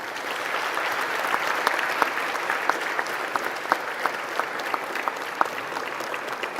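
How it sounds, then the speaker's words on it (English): A university graduation audience giving sustained applause, a dense, even wash of many hands clapping that continues throughout, with a few sharper individual claps standing out. "Give a rousing round of applause."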